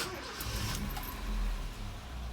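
Ford Courier engine running: a steady low rumble from inside the cab with a light jingle of keys, then a brief swell as the engine is pushed a little harder.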